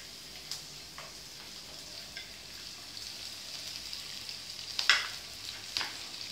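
Onion pieces frying in a pan for egg semiya upma: a faint, steady sizzle runs throughout, with a few sharper crackles and pops near the end.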